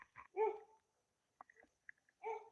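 A one-eyed dog gives a few soft, muffled barks and yips, short and faint with quiet pauses between, heard close by in a calm indoor setting.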